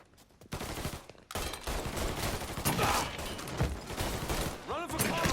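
Gunfire in Mafia 3 Definitive Edition on hard mode, a dense, continuous barrage of rapid shots and bursts layered over game noise, loud and close with brief lulls.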